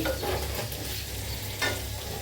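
Meat frying in a pan gives a steady close sizzle with a couple of brief stirring scrapes, one near the start and one toward the end.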